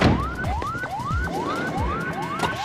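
An ambulance siren wails in repeating rising sweeps, loud and close, with no speech.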